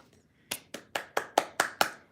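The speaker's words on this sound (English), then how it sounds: "give yourself a hand clap for that" Seven sharp, evenly spaced hand claps ring out at a 2025 Trump pre-inauguration celebration, fairly quiet and rhythmic, with near-silence before the clapping starts.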